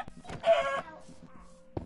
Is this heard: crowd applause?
no